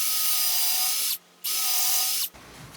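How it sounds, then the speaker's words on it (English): A power drill with a tapered bit bores into wooden utility shelving, whining steadily and loudly, pausing briefly, then whining again before cutting off into low rattling. "I'll drill this all the way in to make a concave shape in there for the flathead"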